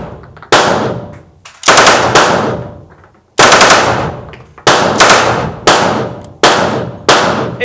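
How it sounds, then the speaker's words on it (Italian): A PM-63 RAK submachine gun fires in full automatic: loud, close bursts of rapid shots come in several separate strings with short pauses between them, and each burst leaves a brief echoing tail. "ora possiamo andare a provarlo in automatico"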